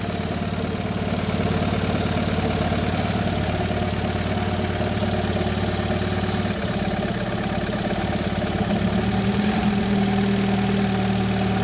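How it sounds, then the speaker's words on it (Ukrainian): A Chana Benni car engine idles after a throttle adjustment, with a steady, loud, close rumble and faint knocking throughout and no voices. "Я нажав на дросіль, добавив повітря її. І диви, вирівнюється."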